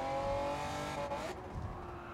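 A Honda NSX Type R from 1992 in Gran Turismo 7 on the Tokyo Expressway, engine note dropping as the throttle is lifted, then rising again with some tire squeal, alone without talk.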